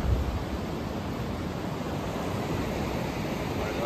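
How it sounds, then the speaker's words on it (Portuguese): Ocean waves rolling in at Praia Grande beach in São Paulo in the early morning, a steady broad washing roar of surf heard from the sand, moderately loud and continuous, with no talking. "Olha o mar aí, galera."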